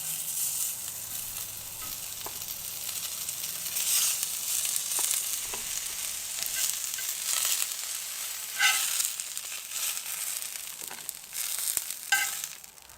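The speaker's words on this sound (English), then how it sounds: "I'm just going to fry them up in the skillet here." Green beans frying in a skillet give a steady sizzle for the whole stretch, broken by a few sharp clicks and scrapes of stirring, with no voices.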